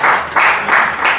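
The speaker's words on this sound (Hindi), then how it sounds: "हाँ, वंडरफुल, जोरदार ताली बनती है।" A crowd claps steadily, a dense wash of applause that swells and dips in a few waves over the short stretch.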